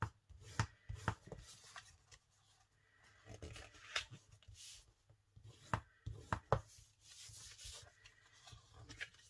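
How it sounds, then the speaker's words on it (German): A bone folder pressed and rubbed along the folds of paper, creasing each side in turn: a series of short scraping strokes, close and fairly quiet, separated by brief pauses. "Jetzt nehmen wir uns ein Falzbein und falzen das einmal an allen Seiten nach."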